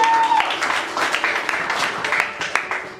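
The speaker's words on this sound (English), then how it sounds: "a round of applause for Mr. Kyle Lasson on TV there" An audience at an improv comedy show claps for a performer, a short lively burst of applause that tapers off over a few seconds, with some voices mixed in.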